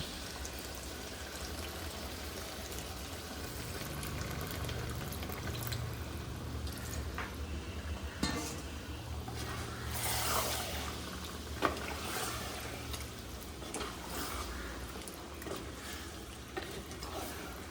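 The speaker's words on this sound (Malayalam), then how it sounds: "ഒരു അര കപ്പ് നമ്മൾ വെള്ളം ഒഴിച്ച് കൊടുത്തിട്ട് അടച്ച് വെച്ചങ്ങ് വേവിക്കാം" Faint water pours into a pan of chicken curry in a quiet, continuous trickle with occasional drips and small splashes.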